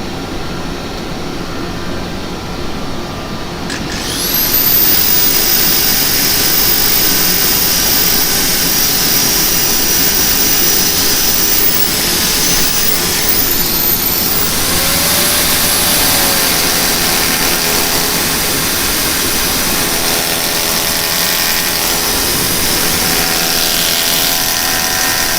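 Broadband whooshing roar of a wood lathe spinning turned firewood while 320 grit sandpaper is held against it, starting quieter then steady and loud throughout, with a faint rising whine partway.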